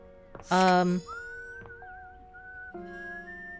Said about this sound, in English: somebody is whistling